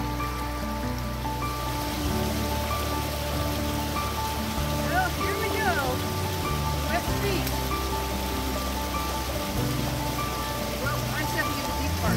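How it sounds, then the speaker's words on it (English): Brandy Creek at Whiskeytown National Recreation Area rushes in a steady, close, broadband wash throughout, with people talking intermittently over the flowing water. "It's a nice little creek."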